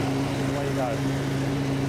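An FV433 Abbott tracked self-propelled gun runs with a steady low engine drone that holds level throughout, with a voice talking over it.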